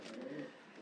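Racing pigeons coo softly close by, a short low murmuring call from a pedigree hen of a Koopman line bred from first-prize winning parents.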